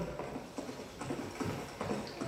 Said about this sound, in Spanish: se oyó el rumor de un caballo que se alejaba al galope